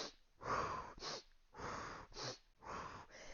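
Close, rhythmic breathing during an exercise workout: sharp sniffs alternating with strong, forceful exhales in a staggered pattern, repeated several times with no talking.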